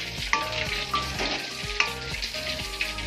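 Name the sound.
curry sauce with oyster sauce boiling in pan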